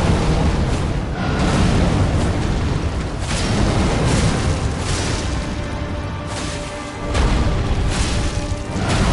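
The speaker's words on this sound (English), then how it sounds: "Talk about explosions in the sky" Loud, continuous booming blasts in the Elden Ring video game, a sustained roar of explosions in the sky with repeated heavy bursts and no pause.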